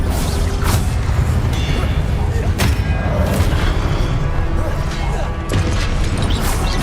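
Expelliarmus spell effect in the Hogwarts Legacy video game, a dense booming magical blast with crashing impacts over a continuous roar of game combat noise, with sharp hits around the start, middle and end.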